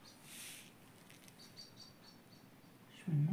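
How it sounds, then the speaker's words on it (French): Small birds chirp faintly outside near a caravan, brief high tweets scattered over a quiet background hiss, ending in a louder low thump. "Vous entendez les petits oiseaux?"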